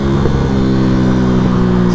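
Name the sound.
Yamaha MT125 motorcycle engine revving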